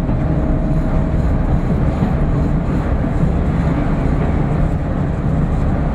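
A train engine rumbles steadily and loudly from inside the cab after the throttle is pulled back, a continuous low drone with no distinct changes in pitch.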